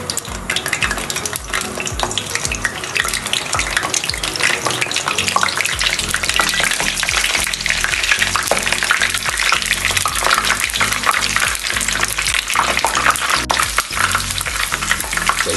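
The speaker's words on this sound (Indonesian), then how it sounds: "Kita goreng tahunya ya." Tofu fries in hot oil in a pan. The loud, dense crackling sizzle goes on without a break, close by, and no one talks over it.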